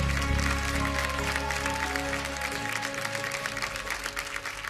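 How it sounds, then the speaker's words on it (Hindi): An audience claps on the stage of a televised children's dance competition, a sustained wash of applause mixed with music and low tones that thins after a few seconds. "एक बार जोरदार तालियां हो जाए सागर के लिए"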